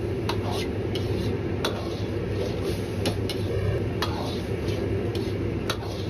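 A spoon slowly pushes egg tofu around a pan as cornstarch slurry thickens the sauce, giving soft scraping and stirring sounds under a faint bubbling simmer, with sharp metallic clicks at intervals.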